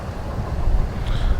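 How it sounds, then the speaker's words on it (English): A low, rolling rumble swells slightly over a second or so as a train passes in the distance near the I&M Canal at Lemont Quarries. "And of course you can hear the train going by"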